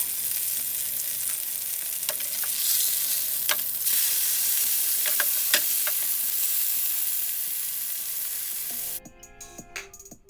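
Salmon fillets fry in a pan with a steady, close sizzle and occasional crackles and pops, holding level for several seconds before a scraping, clattering stir near the end.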